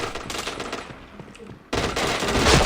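Rapid gunfire from a video game's headshot action crackles in dense bursts, pauses briefly into quieter shots, then returns louder and sustained.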